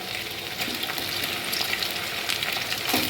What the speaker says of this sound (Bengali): মাটনগুলো একটু এই তেলের সাথে, পেঁয়াজের সাথে একটু